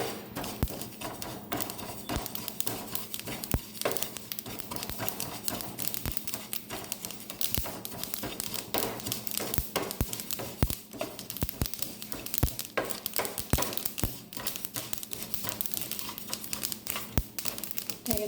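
Sesame seeds roast in a pan over a medium flame, giving a continuous dense crackle of small pops and ticks, steady and close, with no talk.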